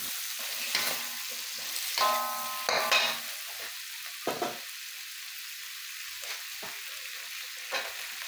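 Shrimp and sliced chayote stir-frying for chop suey give a continuous hiss of hot oil, broken by several scraping tosses and clinks of a spatula against the pan, close by and uninterrupted by speech.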